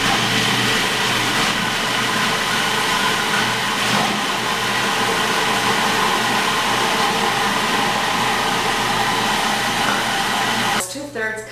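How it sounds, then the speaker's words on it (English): A food processor blending a chocolate dessert runs as a loud, steady motor whir with a constant hum, then abruptly stops near the end, followed by brief clatter. "I'm just going to start the food processor"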